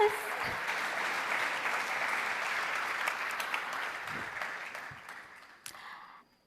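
Applause at a forum closing ceremony as an agriculture minister is welcomed on stage, a broad crowd clapping that holds steady, then thins and fades toward the end, with a few scattered louder claps.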